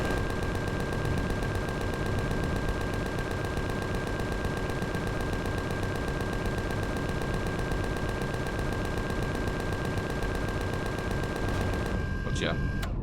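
Sustained automatic gunfire and turret fire in the space survival game Empyrion Galactic Survival, a dense unbroken rattle of shots for many seconds, loud and close, cutting off abruptly near the end.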